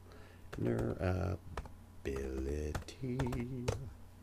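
Computer keyboard keys click in quick, light bursts close by, mixed with a person humming and murmuring over the typing.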